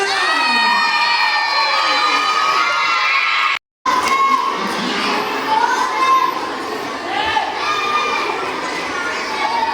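Children cheer and shout together for a junior futsal team at a school halal bi halal gathering in Samarinda, a loud, sustained crowd of young voices with rising and falling shrieks and a brief drop-out midway.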